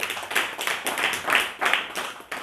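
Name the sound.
audience clapping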